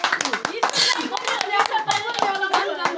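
Hands clapping at a family first-birthday celebration, a rapid series of sharp claps close by, mixed with voices including a child's chatter.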